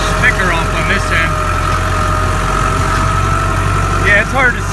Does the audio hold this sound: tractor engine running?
yes